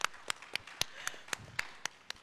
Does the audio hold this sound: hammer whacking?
no